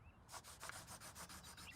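Pencils scratching on paper, a quiet, steady rasping rub that repeats in short strokes throughout, with no talk over it.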